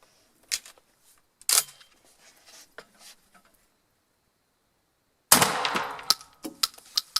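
A 12 gauge shotgun loaded with a Mygra Beccaccia cartridge and fitted with a Gemini smooth rifled choke fires outdoors, a loud sharp blast followed by short reverberating noise, after quieter handling clicks and knocks.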